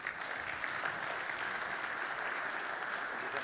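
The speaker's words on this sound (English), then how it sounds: "Nice round of applause for those in the audience." Faint, distant audience applause at a business forum, a thin steady patter of many hands clapping for a few seconds with no talk over it.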